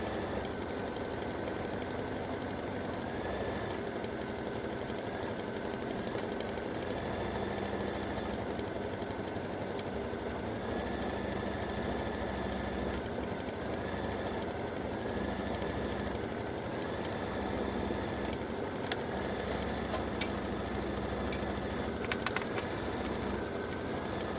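An edge-to-edge quilting machine stitching a row of peace symbols, a steady motor drone with a whine that rises and falls in repeating sweeps as the needle traces each shape.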